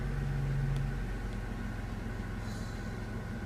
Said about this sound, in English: Yeah, that definitely has an exhaust leak.